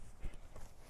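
Horse hooves thud on the ground during a canter in a training session, a couple of soft, muffled strikes close by against quiet background.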